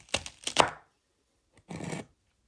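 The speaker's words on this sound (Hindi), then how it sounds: "अब भिंडी हम लोग इस तरह से काट लेंगे।" A knife cuts fresh okra on a board up close: three quick chops in a row, then a pause and a longer, rougher cutting stroke.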